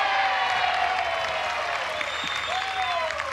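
Crowd at an NCAA college softball game applauds and cheers a fan's catch in the seats, a steady wash of clapping under a sustained tone.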